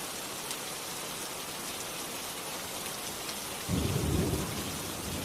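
Steady, dense rain falls throughout, joined near the end by a deep rumble of thunder that swells and fades.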